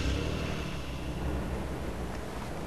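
A vehicle engine in Far Cry 2 runs as a faint, rough, broadband rumble with no clear revving, steady throughout.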